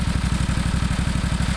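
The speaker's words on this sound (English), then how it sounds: "There's a little bit of a ticking you hear," An engine idles with a fast, even pulse and a light mechanical ticking that the owner traces to the brake and clutch pedals; the steady running continues without a break and no one speaks.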